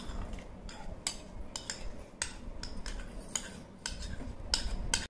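Spoon stirring Ugadi pachadi ingredients such as neem flowers and raw mango in a dish, giving a run of light metallic clinks and scrapes at an even pace, close and fairly clear over a low background hum.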